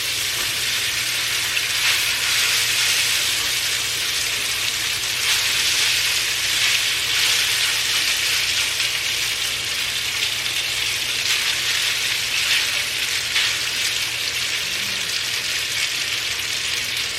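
Pasta dropped into a hot pan for fettuccine Alfredo sizzles and fries loudly and continuously, a bright crackling hiss with faint stirring and no talking.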